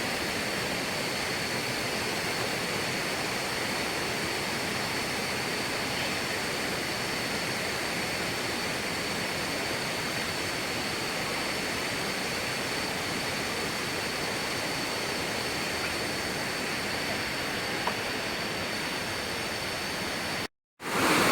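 Steady, dense roar of Krathing Waterfall in Chanthaburi, Thailand, continuous and full, with no voices, cutting off briefly near the end.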